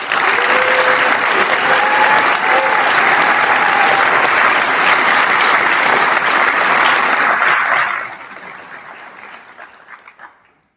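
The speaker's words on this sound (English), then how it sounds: "One more round of applause for our awardees and amazing graduates." Audience applause at a physician assistant program graduation pinning ceremony, a dense loud roar of clapping that holds steady for about eight seconds and then fades away.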